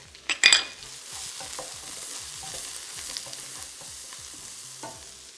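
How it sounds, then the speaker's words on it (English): Minced garlic and ginger hit a hot wok with a sharp burst of sizzle and a spatula clatter, then settle into a steady crackling fry broken by rhythmic stirring scrapes, close and alone. "So there's my minced ginger and my minced garlic."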